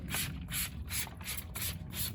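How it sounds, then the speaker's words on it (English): Short hissing spray bursts repeat in a steady rhythm, about five pulses, close up and fairly quiet, with no voices, while spraying a truck during restoration. "And then I just spray it one more time and leave it."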